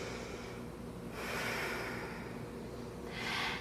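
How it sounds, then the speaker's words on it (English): Slow, deep breaths drawn in and pushed out through the nose during a yoga stretch, two soft breathy swells heard close and alone against a quiet background. "Deep inhale and exhale."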